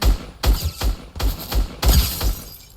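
Gunfire in the Fortnite video game, a loud close burst of about seven sharp shots in an uneven rapid rhythm, each with a heavy low thump, and no voices over it.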